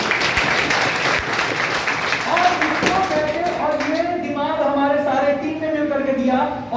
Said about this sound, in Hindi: उसके लिए जरूर एक ताली बजना चाहिए